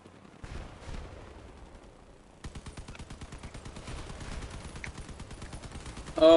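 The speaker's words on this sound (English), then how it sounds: "Oh god, I'm getting hit by cannons and everything." In the vehicle combat game Crossout, rapid bursts of heavy gunfire and cannon shots hammer in a fast, regular rhythm, growing louder and ending in a sharp close impact.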